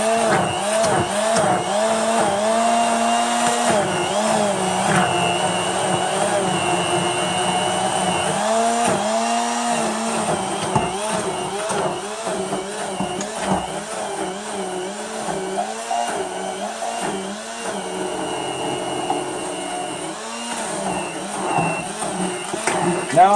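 An electric mixer whisks homemade duck egg mayonnaise, a loud steady motorized whir whose pitch dips and wavers as the beaters work the thickening mixture, with brief pauses and a voice talking over it.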